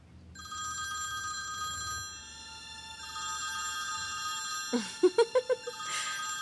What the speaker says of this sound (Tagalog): The much-awaited phone call of Ender.